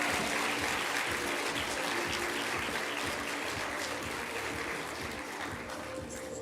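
Audience applause for school quiz challenge winners at a prize announcement, steady dense clapping from a large crowd throughout, fairly loud and sustained with no talk over it.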